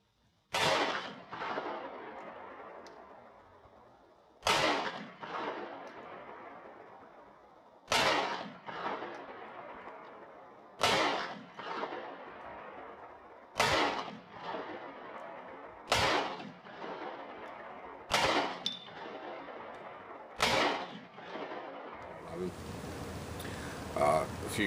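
SIG Sauer P226 MK25 pistol fired outdoors, about ten sharp, loud shots in a steady slow cadence, each followed by a short ringing decay, with a voice speaking between them.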